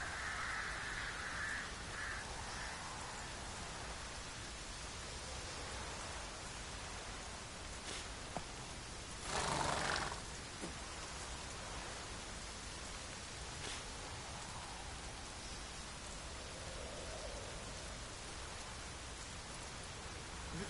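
Rain falls steadily in a video game scene, a soft even hiss of downpour that stays constant throughout, with a brief louder rustling burst midway and faint tones drifting in and out.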